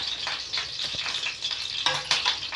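A spice tempering for tomato pepper rasam fries in hot oil, a bright, crackling sizzle with bursts of spattering pops throughout, fairly close and with no voices.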